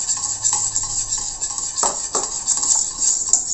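Pancake batter being stirred in a bowl as liquid milk is added a little at a time, for Japanese pancakes: steady scraping and clinking of a utensil against the bowl, close and fairly loud, with no voices.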